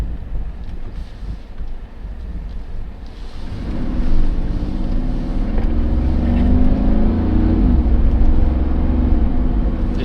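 Mercedes G63 AMG V8 engine rising in pitch and load as it shifts through gears in manual mode, a steady loud drone heard from inside the cabin with wind noise and no talking.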